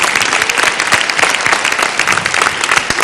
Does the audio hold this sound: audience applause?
yes